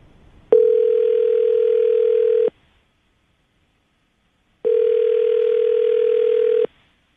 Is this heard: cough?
no